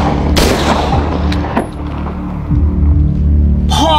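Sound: gunshots in a video game

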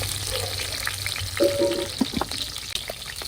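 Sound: slit green chillies frying in coconut oil

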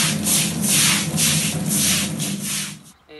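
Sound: brush scrubbing and swilling a yard with water

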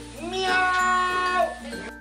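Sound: person imitating a cat's meow

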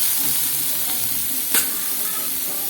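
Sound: stirring and frying chopped eggplant with turmeric

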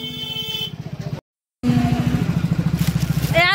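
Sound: motorcycle riding

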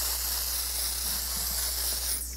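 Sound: makeup setting spray being sprayed

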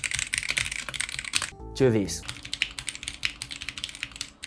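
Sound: typing on RGB keyboard before and after mod

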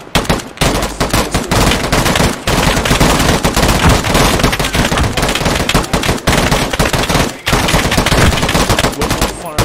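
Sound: sustained machine gun fire in a military video game

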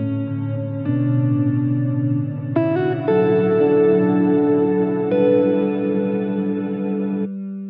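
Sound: cathedral reverb pedal effect on guitar

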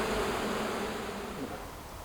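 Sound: mosquitoes buzzing around beekeeper

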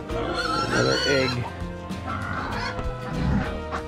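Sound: chickens

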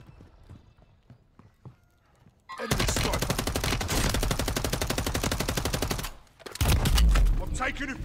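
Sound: gunfire in a video game shooter

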